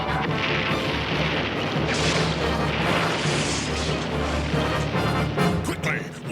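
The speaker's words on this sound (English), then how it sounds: "Fire torpedo!" A cartoon torpedo launch and blast in G.I. Joe: A Real American Hero, heard as a dense, continuous roaring explosion with crashing bursts, loud and sustained throughout.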